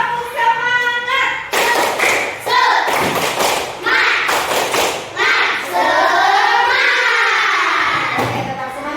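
A school class claps a rhythmic group routine, with bursts of sharp, unison hand claps and thumps broken by short pauses while young voices chant along.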